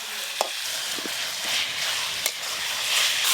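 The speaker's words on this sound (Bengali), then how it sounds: "আদা রসুন আর পেঁয়াজ কুচি বেশ লাল লাল করে ভাজবো" Chopped ginger, garlic and onion fry in a pan for a chicken curry, a steady close hiss of sizzling oil with a couple of sharp spatula taps and brief scraping strokes.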